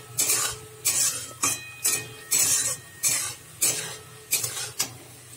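Onions fry in a pan for chicken biryani, a sizzling hiss under about a dozen rhythmic, clinking strokes of a spoon against the metal, close by with no talk.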